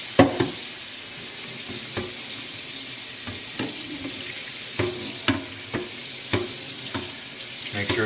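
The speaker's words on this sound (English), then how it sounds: "And then we'll scrub the pan, or the cutting board." Water runs into a kitchen sink while a pan or cutting board is scrubbed, a steady rushing spray broken by sharp knocks and scrapes of the item against the basin, close and continuous.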